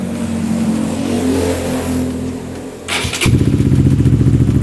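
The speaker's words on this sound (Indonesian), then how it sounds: "langsung aja kita coba sekarang untuk nyalain si GTR" A Honda Supra GTR150 motorcycle engine with an aftermarket exhaust idles roughly, cuts briefly, then fires up loud and close into a fast, throbbing rev.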